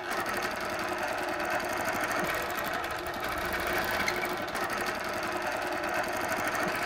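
A sewing machine quilting with templates runs in a steady, fast rhythmic chatter throughout, close and moderately loud, with no voices.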